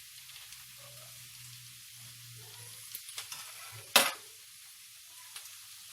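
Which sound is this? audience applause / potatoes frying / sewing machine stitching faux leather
potatoes frying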